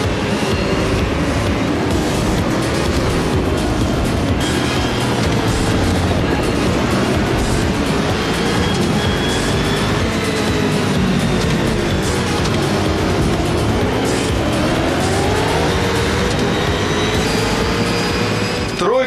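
Racing cars in the video game Superstars V8 Racing roar continuously and loudly, engines droning and shifting without pause, a dense, steady wall of motor noise with no talk.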